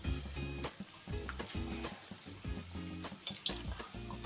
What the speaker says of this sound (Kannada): ಇವಾಗ ಈ ಥರ ಎಣ್ಣೆ ಕಾದಿರಬೇಕು ನಾವು ಬಜ್ಜಿ ಹಾಕಬೇಕಾದ್ರೆ